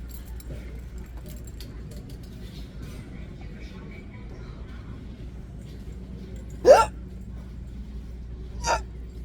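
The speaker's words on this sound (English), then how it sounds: "That's a normal hiccup." Two sharp human hiccups, one loud and one softer about two seconds later, over the low steady hum of a car interior while parked or shopping.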